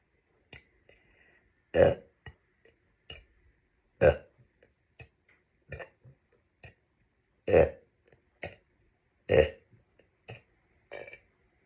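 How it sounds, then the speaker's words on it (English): Loud, deep burps from a woman during a casual livestream hangout, erupting about four times at irregular intervals, with small clicks and quiet shuffling between them and no speech. "if you're new here and you've never heard me burp"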